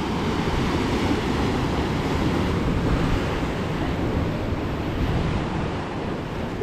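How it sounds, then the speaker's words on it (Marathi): Sea waves surge against the rocky shore at the Bamanghal blowhole, a loud, continuous roar of surf mixed with wind buffeting the microphone, with no distinct spout burst standing out. "आणि इथे असे मस्तपैकी फवारे उडतात पाण्याचे"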